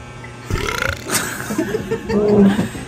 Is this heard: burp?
yes